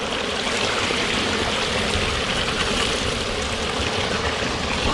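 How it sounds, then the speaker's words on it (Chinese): Heavy runoff rushes steadily through a drainage ditch beside rice paddies after a night rainstorm, a loud, continuous close-up gush of flowing water with no pauses and no voices. "到处都在排水啊，排水量非常的大"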